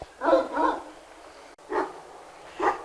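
Anatolian shepherd dog of the Avşar line, a pregnant female, whimpering in short soft whines, three separate bursts with pauses between, close and fairly quiet.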